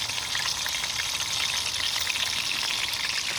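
Onion frying in a pan, a steady dense crackle and sizzle that runs without a break, close and moderately loud, with no voices.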